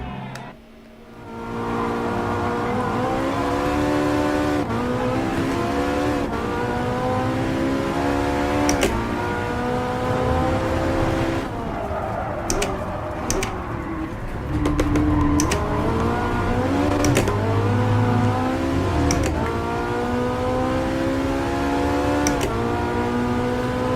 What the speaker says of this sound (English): At least we have some better engine sounds now.